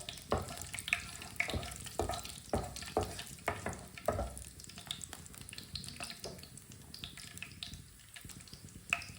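Whole coriander and spices dry-roasting in a pan while being stirred, giving a steady light sizzle with rhythmic scraping strokes throughout.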